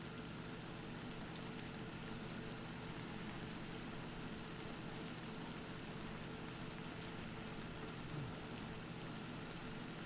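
Steady rain falls in the video game Death Stranding, a dense, even hiss that holds constant throughout with no talk over it.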